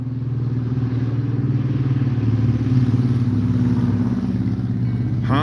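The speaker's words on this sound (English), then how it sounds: "Oh, we got a motorcycle coming." A Honda Shadow 750 V-twin motorcycle passes, its uneven, lumpy engine rumble steady and fairly loud as it goes by, thinning to a rattle at the end.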